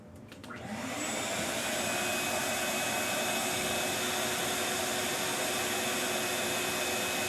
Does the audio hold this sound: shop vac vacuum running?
yes